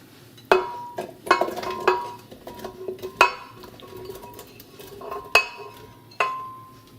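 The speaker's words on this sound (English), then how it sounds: "next we're going to transfer the cubed potatoes to the blender." Cubed potatoes are transferred into a blender, giving a series of sharp clinks and knocks of utensils against the container, about seven distinct hits spaced irregularly with quieter rattles between, no talk.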